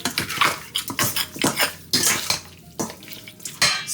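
A utensil stirs ginger and garlic in a pot for curry goat, making repeated scraping clinks and clatters in an irregular rhythm, close and fairly loud.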